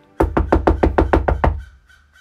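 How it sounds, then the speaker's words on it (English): A quick run of nine firm knocks on a door, evenly spaced and close, then silence. "He knocked on the door."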